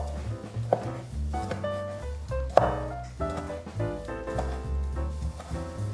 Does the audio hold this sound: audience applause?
no